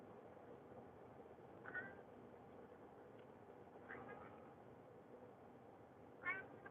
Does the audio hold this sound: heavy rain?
no